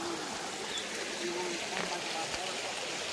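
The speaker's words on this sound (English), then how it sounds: "Water just flowing through." Steady broadband rush of the Laurel Fork stream flowing along the Appalachian Trail toward the falls, a continuous near wash of water with no voices.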